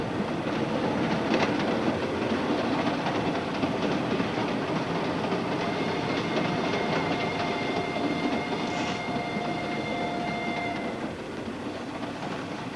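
A moving train rolls along steadily and loudly, with a constant rumble and faint wheel squeal running through.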